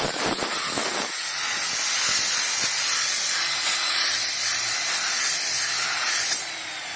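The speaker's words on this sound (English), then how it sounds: "I'm going to blow this pad out of here, make sure I don't have any chunks that are dried on here from previous jobs" A sharp blast of compressed air hisses steadily against a wool polishing pad, loud and continuous with a few brief bursts at the start, then cutting off near the end.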